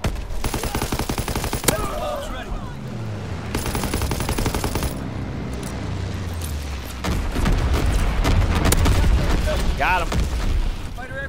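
Aircraft strafing gunfire in Call of Duty WWII, with repeated loud bursts and booming impacts layered under game voices and combat noise.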